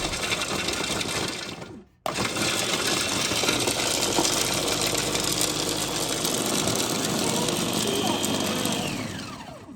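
An AMZCHEF electric food processor chopping a small amount of carrots in a large bowl, a loud continuous motor whir that cuts out briefly and restarts, close up and alone.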